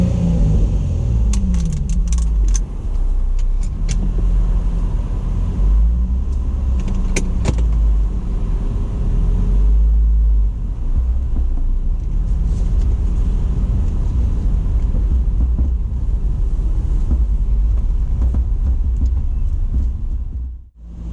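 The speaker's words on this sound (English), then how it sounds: "So we're pulling off in the car right now." A Nissan 350z pulls away and drives on, its engine a steady low rumble with shifting tonal sweeps as it accelerates, heard from inside the car with faint rattles and no talking.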